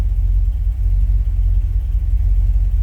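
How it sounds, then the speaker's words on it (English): 1962 Chevrolet Impala SS V8 running as the car rolls, a loud, steady low rumble with even exhaust throb and no voices. "Just move the car back to shoot up this video."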